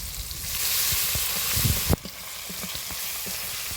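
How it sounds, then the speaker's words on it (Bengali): Spice paste of tomato, turmeric and ginger fries in a pan with a steady sizzle, punctuated by close stirring clatters and a sharp knock near the middle, with no talk. "দেখো বন্ধুরা কত সুন্দর কষানো হচ্ছে মশলাটা"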